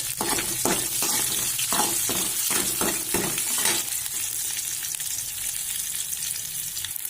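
Peanuts are tipped into a hot pan for a homemade sprouts snack, rattling in with a burst of quick clicks and taps before settling into a steady, close sizzle.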